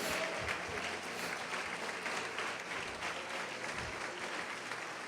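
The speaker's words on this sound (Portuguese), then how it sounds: "pode aplaudir o Senhor e glorificar a Deus" A church congregation applauds steadily throughout, a dense, continuous wash of clapping from many hands with no break.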